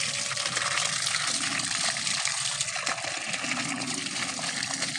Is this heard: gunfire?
no